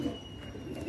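A domestic pigeon coos softly in a couple of low, throaty pulses, faint and close, with no talk over it.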